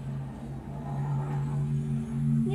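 A truck engine in Fortnite runs after starting, a steady low hum with a tonal whine that rises slightly as it revs, moderately loud, with no talk over it.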